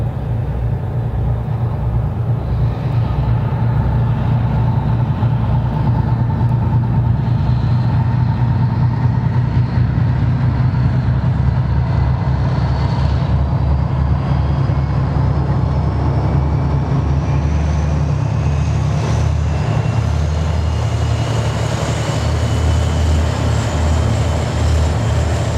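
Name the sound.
TE-10M diesel locomotive engine running after cold start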